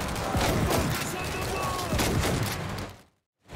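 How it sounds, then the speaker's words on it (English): Double-barrel shotgun blasts in World War Z amid chaotic combat, several close, loud shots over dense action noise with talking, cutting briefly to silence near the end. "It's a double barrel shotgun."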